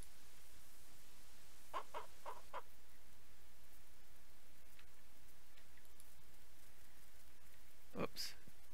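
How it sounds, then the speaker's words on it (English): Hens in the Ranch Simulator video game cluck in a short cluster of quick calls, then give one louder squawk later on. The calls sit over a quiet, hissy background. "I'm like kind of leery about picking up eggs with the hens around."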